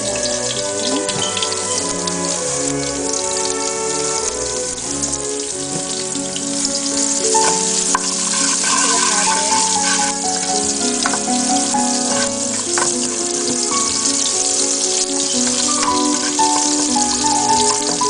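Garlic sizzles steadily in a hot pan over high heat, a continuous dense frying hiss with crackling pops throughout, loud and close, with no talking.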